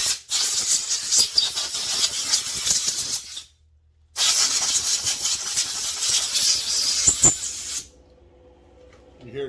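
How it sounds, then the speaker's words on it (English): Shop air compressor running with a loud, broad hissing roar that drops out briefly, kicks back in and then cuts to a quieter low hum, near and steady, with no talking over it. "You hear the air compressor come on?"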